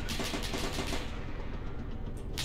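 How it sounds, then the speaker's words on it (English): Sustained automatic gunfire from a machine gun in the Arma 3 battle game, a dense rapid burst rattling loud and close for the whole span, easing slightly toward the end. "they're also shooting at us again, I think."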